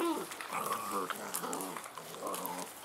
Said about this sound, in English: Ooh, what a ferocious pup.